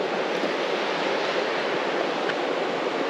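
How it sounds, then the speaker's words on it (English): A creek flows over rocks at a crossing in an old goldrush town in Victoria, giving a steady, close broadband rush of water that stays constant throughout with no voices. "There's a bit of a river here with a river crossing."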